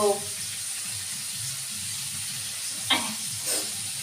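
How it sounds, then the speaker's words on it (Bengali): Fish heads and onion stalks sauté in a wok with a steady, soft sizzle, broken by a couple of brief scraping clanks from stirring near the end. "এই কড়াতে কষছি পেঁয়াজ কলি আর মাছের মাথা দিয়ে কষছি"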